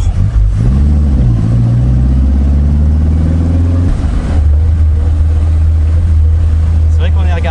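Small engine of an Austin Healey Sprite Mk1 Frogeye running steadily nearby, a low droning hum with a brief rev and settle, under people chatting.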